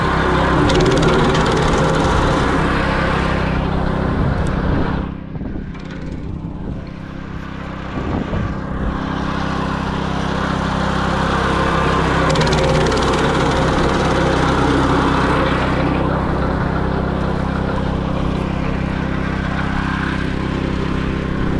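A branch chipper runs steadily close by while chipping acacia branches, a continuous loud engine drone with brief dips and surges as wood is fed in, no talking.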